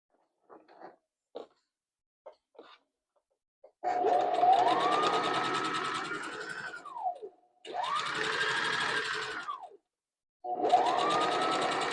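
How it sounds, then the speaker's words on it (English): A sewing machine stitches the seam allowance of a zipper from top to bottom. A few soft handling clicks come first, then three loud, close bursts of motor whirring that swell and wind down, separated by short pauses. "first thing I'm going to do is to stitch the seam allowance from top to bottom"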